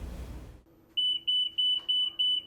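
A library security gate alarm goes off after a brief rustle: a loud, high electronic beep repeating in a steady pulsing rhythm, clear and close.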